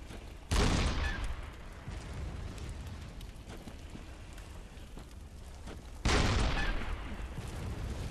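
Two heavy booming cannon blasts in Bloodborne, about five seconds apart, each followed by a long rumbling roar that fills the space.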